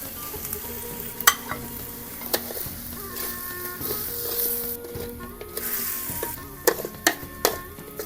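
Eggplant stir-fried in a pan for a simple Northern Thai dish with beans, sizzling steadily up close while a utensil scrapes and clinks against the pan in irregular bursts, with no talking.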